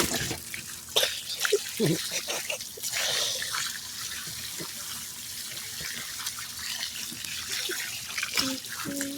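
Running water rinses cleaned redfish and trout, splashing and trickling steadily over the fish at close range, with a few louder splashes and some handling noise.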